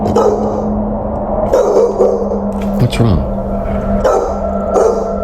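A dog barks and yips a few times in short bursts while a person talks nearby over a steady low hum.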